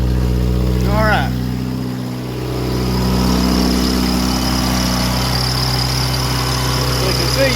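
A Chevrolet Cavalier engine running on wood gas idles with a steady low rumble and vibration, close by, while a voice speaks intermittently over it.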